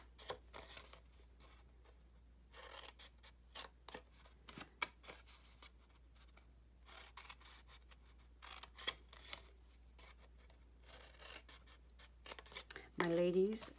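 Scissors snip paper for handmade packaging boxes, giving quiet, irregular short cuts and rustles spaced across a hushed room, with a brief louder rustle at the very end.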